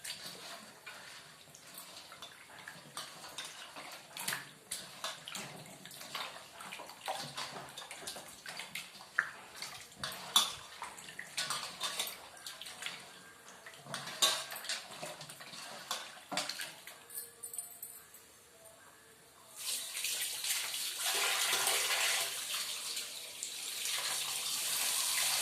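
Tap water runs while a greasy pot is scrubbed and rinsed, with scattered clanks and scraping of the vessel, then a steady louder gush of water in the last few seconds.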